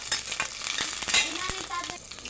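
Garlic sizzles and crackles in hot cooking oil in a pan while adobo is being prepared, a dense close frying hiss broken by sharp pops and the occasional scrape of stirring.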